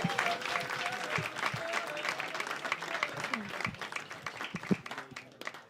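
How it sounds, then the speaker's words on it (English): A comedy club audience in Liverpool applauds a comedian taking the stage, loud sustained clapping mixed with cheers and crowd noise that slowly tapers. "We're going to start the applause for George"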